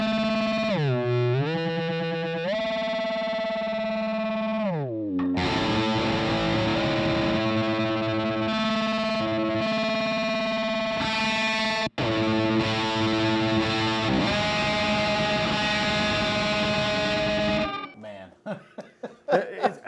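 Electric guitar run through an Alexander Pedals Marshmallow effects pedal, heavily processed notes with pitch-bending, warbling swoops and dense distorted sustain, played continuously and ending in a few sputtering bursts.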